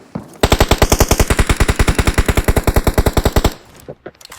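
Loud, rapid automatic gunfire from a video game rattles in one sustained burst of about thirty evenly spaced shots, then stops abruptly, with no talking.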